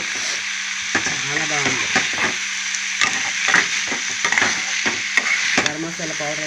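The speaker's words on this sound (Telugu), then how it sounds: "చక్కగా అలాగే ఫ్రై అవుతాయండి ముక్కలు." Cabbage pieces frying in a pan are stirred repeatedly, with scraping strokes at an uneven rhythm over a soft steady sizzle, and a voice speaks briefly.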